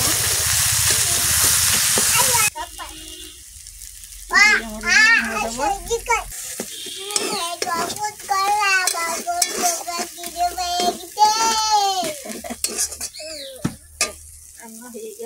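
Prawns fry in hot oil in a pan, a loud close sizzle at the start that then sinks under stirring clatter and chatter from adults and children, with the frying continuing faintly beneath the voices.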